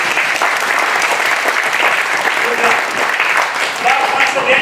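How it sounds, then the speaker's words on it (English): An audience at a North Bengal quiz competition grand finale claps steadily for a team, a dense, sustained wash of applause throughout with a faint voice or two mixed in. "I'm not going to go to the next question until I hear all of you clapping for him."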